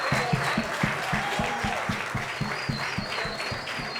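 Applause and crowd noise at a bar mitzvah celebration, a broad wash of clapping over a steady, thumping musical beat that pulses beneath it.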